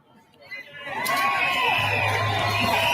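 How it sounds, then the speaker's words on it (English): A large crowd at a London freedom rally protest swells into sustained cheering and whooping, with shouts and voices mixed in, loud and continuous after a brief quieter start. "that crowd is cheering that"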